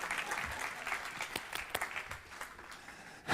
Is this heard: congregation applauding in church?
yes